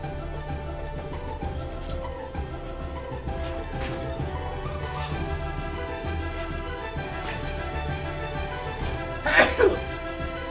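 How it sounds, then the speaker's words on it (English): A single loud sneeze bursts out close to the microphone near the end, over steady background music and game sounds from a Mount & Blade Warband session. "I'm sorry for sneezing into the microphone"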